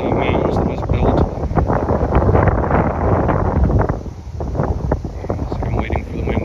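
Strong outdoor wind buffets the microphone at the Cahokia mound, a steady loud rumble with gusty rustling throughout, while a voice talks faintly beneath it.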